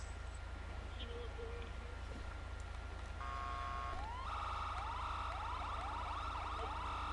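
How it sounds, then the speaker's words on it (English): A police car siren in a roleplay video game begins wailing partway through, its rising sweeps faint and distant over a steady low hum, with no voices. "you will turn on your lights and sirens once you pass the telephone pole"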